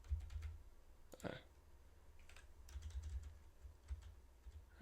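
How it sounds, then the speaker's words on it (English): Keys tapped on a computer keyboard while measuring particles in ImageJ software, a few soft scattered clicks and short bursts of typing, faint and close, with no talking. "click M on the keyboard that measures it"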